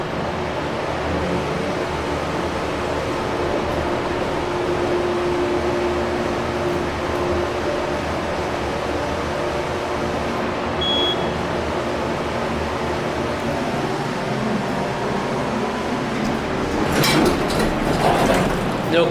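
A hydraulic elevator motor at a university student union hums steadily and loud throughout a silent ascent, a constant low drone with a slight rise and rustle near the end.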